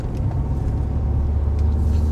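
A car drives along at a steady pace with a loud, low engine and road rumble heard from inside the cabin, constant throughout the short stretch.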